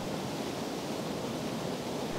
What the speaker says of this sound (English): Such a pretty little waterfall.